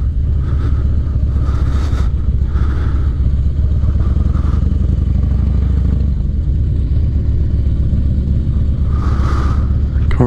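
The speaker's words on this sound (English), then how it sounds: "Alright, so this is a 1985 Harley Davidson FXR." A 1985 Harley-Davidson FXR cruises through a neighborhood, its engine keeping up a loud, steady rumble with a clattering edge and brief rises in pitch, close and continuous throughout with no talking.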